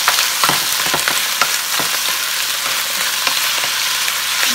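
Chicken pieces frying in a pan for Puerto Rican-style Chinese rice, a bright, steady sizzle with scattered pops and occasional stirring scrapes, close and loud with no talk.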